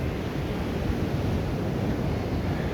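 Sea waves wash onto a beach in a steady, dense roar that continues without a break, loud and close, with wind noise mixed in and no voices.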